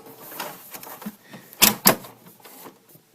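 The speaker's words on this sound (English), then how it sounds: "raise the door slightly" Front door of a Samsung CLP-510 colour laser printer being raised, soft plastic shuffling followed by two sharp clacks close together midway, then quieter rattles.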